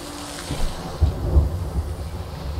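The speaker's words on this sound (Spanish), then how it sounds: "Va a llover." Rain and rolling thunder in the Sea of Thieves game, low rumbles swelling twice around the middle over a steady wash of rainfall, fairly loud and alone without talk.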